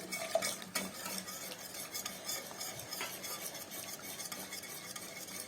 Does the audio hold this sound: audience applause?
no